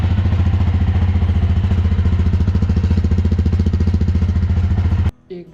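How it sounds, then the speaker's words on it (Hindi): A Jawa 42 2.1 motorcycle engine idles loudly and steadily with a fast, rhythmic thumping pulse, then cuts off abruptly near the end. "और साउंड तो आप सुन ही रहे हैं इस बाइक की।"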